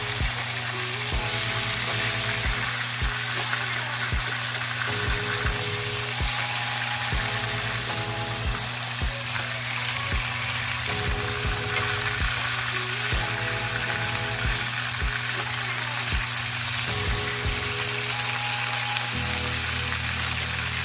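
Pork steak frying in a pan gives a loud, steady sizzle that runs throughout, while faint scraping and clinks from turning the meat come through the crackle and a quiet hum sits underneath.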